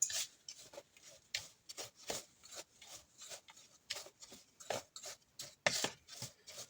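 A spoon stirs fruit cocktail mixture in a bowl, making soft scraping and clicking strokes in an uneven rhythm. The strokes sound close but faint, with no talk.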